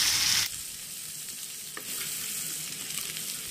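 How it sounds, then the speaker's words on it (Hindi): A coarsely pounded garlic, ginger and chili paste fries in a pan for an Indian taro dish, giving a steady close hiss and sizzle with a brief stir partway through. "लहसुन अदरक अच्छे से भून गए हैं"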